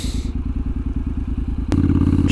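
A Honda CTX motorcycle being ridden, its engine giving a loud, steady, close throbbing pulse with a brief clatter partway through and no talk.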